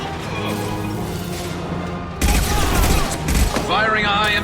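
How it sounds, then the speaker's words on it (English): Gunfire and blasts rumble through a Mass Effect 2 battle, with dense, continuous combat noise that suddenly grows louder and heavier halfway through. Voices talk over the fighting. "Firing a high impact shot!"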